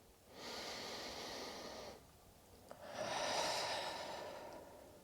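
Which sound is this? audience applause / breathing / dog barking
breathing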